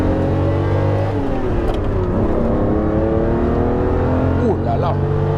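A Ferrari Testarossa engine hums and rises in pitch while driving, shifting through gears with a steady near drone and brief revs, heard from inside the car with a voice talking over it.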